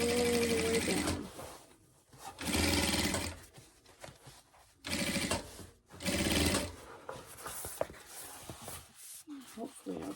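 A sewing machine runs in bursts of a few seconds each, stitching fabric for a rifle barrel dust cover with a quarter-inch stitch and back stitch, with pauses and soft handling noises between runs.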